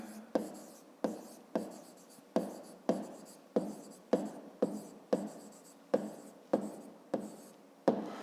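Pen writing on paper for a geometry exercise in a fifth-grade maths lesson: a steady series of scratchy strokes, roughly one every half second, close and clear with no talk over them.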